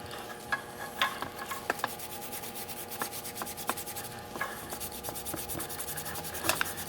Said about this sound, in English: Okay, so scrubbing.